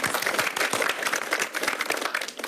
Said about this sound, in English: UNEP deserves a round of applause